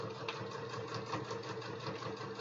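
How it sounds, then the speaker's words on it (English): Sewing machine turned down to a slower speed, a steady mechanical whir with a fast, even stitching pulse, running continuously at moderate volume. "I got to turn down the speed on my sewing machine so it doesn't shake me off"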